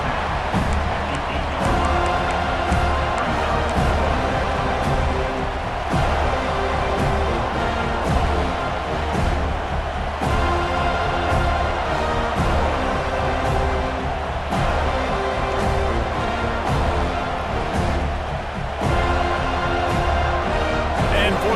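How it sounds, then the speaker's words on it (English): A dense, steady roar from a football stadium crowd before a field goal kick in an Oregon vs Florida State game, with a commentator talking over it throughout. "This crowd trying to do its part to get inside the kicker's head."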